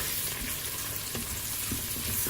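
Mushrooms sweating in oil inside a Cookeo multicooker, a steady close sizzle and crackle of frying with occasional stirring clicks, alone without voices.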